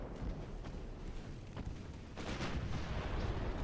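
Secondary guns on a warship fire in Ultimate Admiral Dreadnoughts, a dense, continuous rumble of overlapping booms and cracks with several sharper reports standing out, loud and steady throughout.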